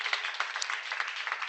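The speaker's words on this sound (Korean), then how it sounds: "여러분에서 자축의 박수 부탁드립니다." A brief burst of audience applause at a gathering, with dense, lively clapping that stays busy throughout.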